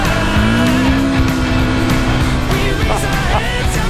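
A rally car slides on its rear wheel across very dry ground during the Dakar 1000 Dunas rally, its engine roaring loudly and steadily at close range, with a rising whine and scraping skid noises.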